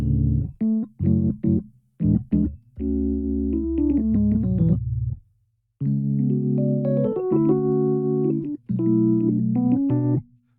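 Warm Rhodes suitcase electric piano chords ring out in sustained, tremolo-tinged blocks, with short stabs at first and then longer held voicings, played alone without voices.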